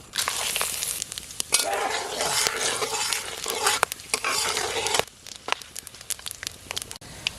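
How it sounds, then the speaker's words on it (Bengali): Whole garam masala spices sizzle and crackle in hot oil left from frying potatoes, a loud bright spluttering with sharp pops that settles into quieter intermittent crackles. "আলু ভাজা তেলের মধ্যে আর একটু তেল দিয়ে দেবো গোটা গরম মশলার ফোড়ন"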